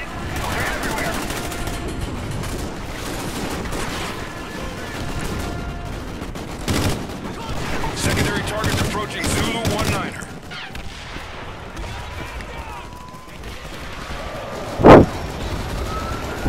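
Gunfire in the Call of Duty: Ghosts video game, busy bursts of shots and blasts over steady game noise, with a sharp loud crack near the end.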